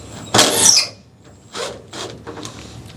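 Bolt on an 2008 Ford F150 tailgate torsion bar being loosened with a ratchet: a sharp metallic clicking burst, followed by several shorter, softer ratcheting clicks at close range, with no talking.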